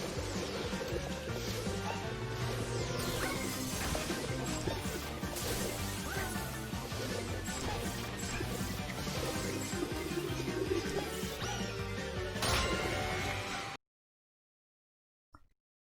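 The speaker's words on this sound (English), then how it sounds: "breaking the glass will take a little bit of practice for the timing" Glass smashing in the PS5 platformer Astro's Playroom, Frozen Run stage: dense, continuous crashes and impacts over lively game music for about fourteen seconds, then a sudden cut to near silence with a faint blip.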